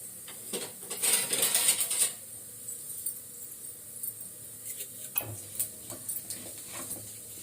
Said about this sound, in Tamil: உளுந்து நல்லா கொஞ்சம் பொரியட்டும்.